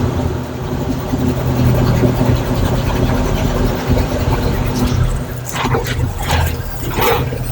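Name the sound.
1962 Chevy C20 truck engine running with new fuel pump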